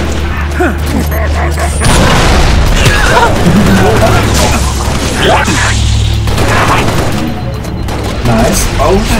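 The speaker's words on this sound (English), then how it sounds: "That tank just... it just blew up" A tank blowing up during a Halo: Reach heroic campaign battle, with heavy booms and rattling bursts of gunfire packed densely together at loud volume, and voices talking over the chaos.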